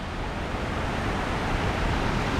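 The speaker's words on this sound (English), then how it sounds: "So this is a small waterfall that we thought is the one." A small waterfall in the forest of North Bali pours in a dense, steady rush of water, loud and close, with no voices over it.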